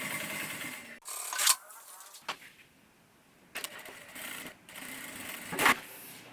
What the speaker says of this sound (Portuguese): Vou começar costurando do centro pra cá e depois daqui pra lá.